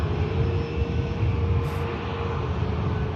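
A Dreamliner airliner at Manchester Airport in rainy weather produces a steady, deep jet-engine rumble with a faint tonal whine, continuous and moderately loud, with no talking.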